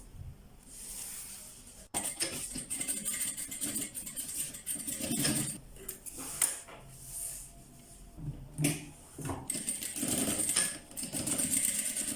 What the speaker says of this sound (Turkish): Ve iki kenarından dikiyorum.